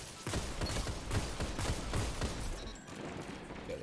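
A Graviton Lance pulse rifle fires in a video game, dense overlapping pulse shots blending into a steady loud crackle with fainter action noise beneath.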